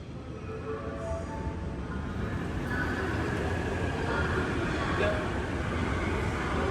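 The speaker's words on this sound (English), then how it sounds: "The train's turned up." Steady low rumble and rolling of a train pulling into a station in Japan, continuous and fairly loud, with faint squeals and no talk.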